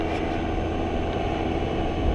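Paramotor engine running during a powered paragliding flight along a beach, a steady droning engine roar with wind noise, constant and fairly close, no talk.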